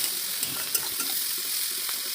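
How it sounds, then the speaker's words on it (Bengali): Yardlong beans frying with cumin, turmeric and salt in a pan give a steady, close hiss and sizzle that runs unbroken throughout, with occasional soft stirring ticks and no voices. "জিরার সঙ্গেই ওটা বরবটিটাকে ফ্রাই করে নেব"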